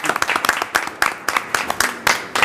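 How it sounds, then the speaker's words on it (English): A small crowd at a Cherriots transit board meeting claps for Mr. Shepke, a short burst of uneven hand claps at moderate distance, with a voice briefly audible underneath. "please give Mr. Shepke a round of applause"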